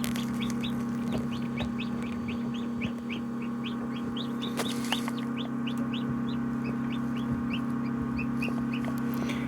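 A newly hatched Marans chick peeps in an incubator, giving rapid, repeated high chirps in an even rhythm over the steady drone of the machine.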